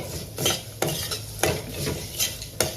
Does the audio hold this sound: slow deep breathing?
no